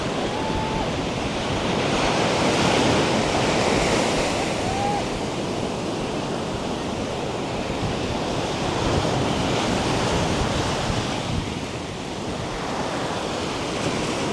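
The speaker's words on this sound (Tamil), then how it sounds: "இந்திய பெருங்கடலும் மங்களா விரிகுடாவும் இணைகிற தண்ணி" Ocean surf rolls steadily at Dhanushkodi, where the Indian Ocean meets the Bay of Bengal. The roar of waves is continuous and close, with heavy wind buffeting the microphone and no clear voices.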